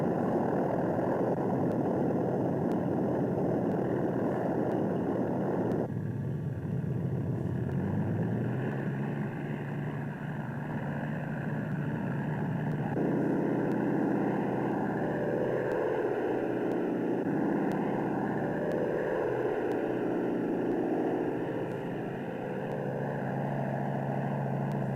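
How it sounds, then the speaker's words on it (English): WWII bomber engines run up and idle as the aircraft get underway, a loud continuous piston drone with shifting pitch and layered engine tones throughout. "the tower gave them the go-ahead, and the bombers got underway"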